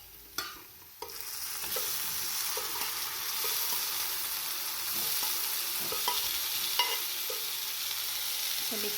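Cooked drumsticks (shevga) stirred and frying in masala inside a pressure cooker, a steady close sizzle with periodic scraping stir strokes and a few sharper clinks, no voices.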